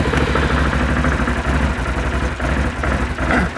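Can-Am ATV engine running at a steady idle, a continuous close, loud rumble with an even rough throb and no other sounds.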